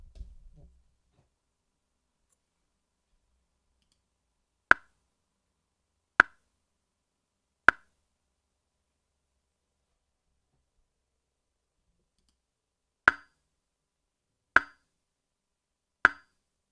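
Six sharp test clicks play through studio speakers to measure latency, each a short isolated tick, spaced in two groups of three with silence between, fairly faint.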